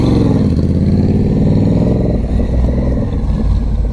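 A Honda Rebel 1100 motorcycle pulls away, its engine a loud, continuous drone that shifts pitch partway through as the bike rides off, no talk over it.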